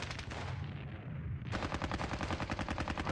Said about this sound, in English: that was some good firing there